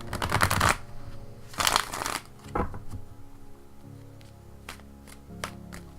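Cards riffle and slap together in two or three brief shuffling bursts, close by, followed by lighter taps and handling.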